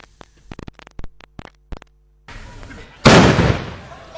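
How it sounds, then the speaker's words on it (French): Sharp intermittent gunshots crack out one after another during a royal succession ceremony in the morning, followed by a louder, sustained burst of noisy blasts with rumbling echo. "Des coups de feu intermittents, comme pour secouer la torpeur matinale"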